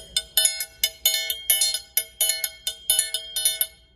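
Cymbals and a triangle are struck together in a repeating two-part pattern, giving crisp, ringing metallic hits about twice a second that decay quickly between strokes, close and alone.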